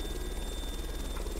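A Sud-Ouest Djinn helicopter engine in a flight simulator game makes a steady, loud, whirring drone with a constant high whine and a low rhythmic rotor thrum.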